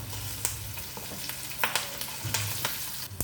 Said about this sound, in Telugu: ఇప్పుడు పోపు వేగింది కదా, చక్కగా